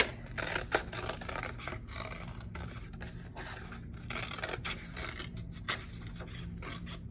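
Scissors snip out a brown-crayoned paper bear ear at a daycare craft table: a close, steady series of scraping, rasping cuts with short pauses between strokes, no talking.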